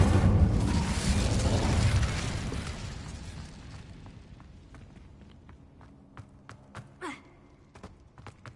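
An Incendio fire spell cast in Hogwarts Legacy bursts as a loud roaring blast that slowly fades over several seconds, followed by scattered faint clicks and thin sharp game sounds.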